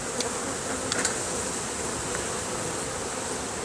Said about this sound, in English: There's so many bees, I can't see